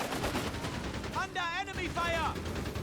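Gunfire from a Company of Heroes 3 match between Wehrmacht and US forces, with a quick burst of shots under an excited caster narrating over the battle.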